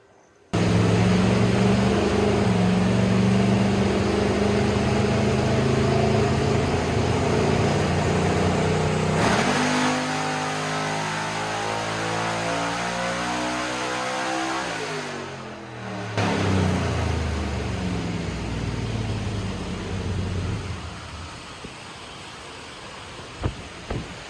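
A 1967 L88 Corvette with a 427 engine roars loudly on a dyno under sustained full-throttle load, its pitch sweeping and shifting as the converter lets it freewheel, then fading as it comes off the throttle.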